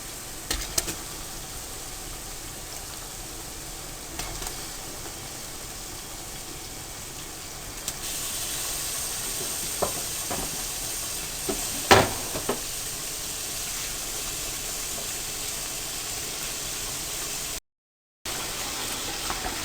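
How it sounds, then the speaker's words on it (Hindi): Chicken frying in a pot for degi chicken masala gives a steady, moderate sizzle throughout, with a few brief clinks and stirring scrapes near the middle and no talking. "अब आपने चिकन को कम से कम 10 मिनट तक अच्छी तरह से फ्राई करना है"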